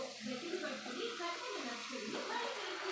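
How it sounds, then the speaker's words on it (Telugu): Water poured lightly into a simmering dry fish and tomato curry in a home kitchen, a soft continuous splashing and trickling with faint sizzle underneath, fairly close and steady. "లైట్గా వేస్తా వాటర్"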